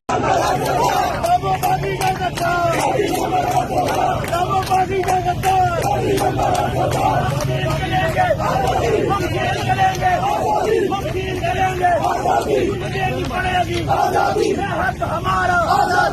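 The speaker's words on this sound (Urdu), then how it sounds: "نہ وہ باغی نہ غدار، قیدی 804 کے نعرے لگاتے رہے۔" Crowd of party workers chanting political slogans at a street rally in Lahore, a dense, continuous roar of many voices shouting in rhythm, loud and close, with babble and calls layered throughout.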